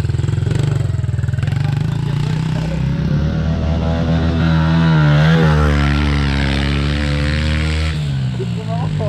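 An enduro motorcycle ridden hard, its engine droning loud and steady with rising and falling revs throughout, close by.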